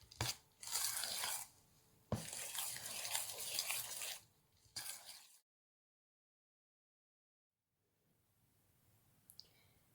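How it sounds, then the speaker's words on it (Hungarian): Thick batter of flour being stirred by hand: several bursts of wet, crunchy scraping and churning, near and moderately loud, then a long stretch of silence and faint small clatter. "Ezzel alaposan összekeverjük."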